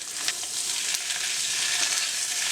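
Pork masala with ginger garlic paste frying and being stirred in a pan: a loud, continuous close-up sizzle with faint scraping from the stirring, with no voices.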